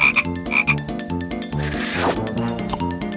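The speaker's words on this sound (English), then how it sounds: "Oh, it's a frog!" A cartoon frog croaks in a children's dinosaur puzzle game, with a loud, close throaty croak cutting through bright, bouncy background music.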